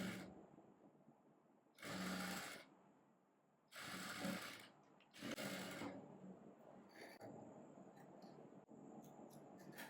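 A sewing machine stitches the front of a blouse from the bottom edge upward, running in three short bursts of a few seconds each with quiet pauses between them, close and fairly soft.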